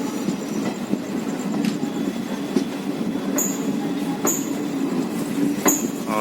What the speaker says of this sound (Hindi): आप देख सकते हैं ट्रेन चल चुकी है और मंडवाडी से हम निकल रहे हैं कानपुर के लिए।